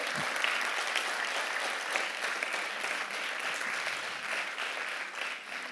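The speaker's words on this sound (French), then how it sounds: "Je pense qu'on peut applaudir déjà pour se chauffer un peu." An audience claps to warm up at the Prix EMI 2024 nominee presentation ceremony, producing a full, continuous wash of applause from a sizable crowd that stays loud and even throughout.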